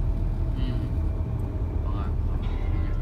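Late-night city street traffic with many vehicles, a continuous low rumble of engines and passing cars with faint higher engine whines drifting in and out, steady and moderately distant.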